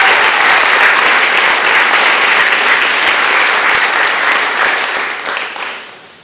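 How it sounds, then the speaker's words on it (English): Loud, dense applause for high school athletes at an awards event, a sustained wash of many hands clapping that tapers off and fades out in the final second. "Give them a round of applause."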